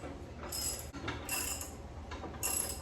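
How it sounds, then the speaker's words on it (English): Ratcheting bursts while torquing down bolts on a Jeep JL Rubicon OEM winch bumper, three rapid clicking runs of about half a second each, close and fairly quiet over a low background hum. "now I'm just going to torque all these down"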